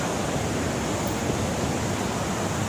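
Water at a waterfall near Ban Don Nang Som pours down in a steady, dense, hissing roar, constant and unbroken throughout, with no voices.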